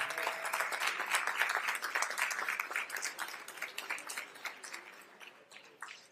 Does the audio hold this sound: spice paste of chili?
no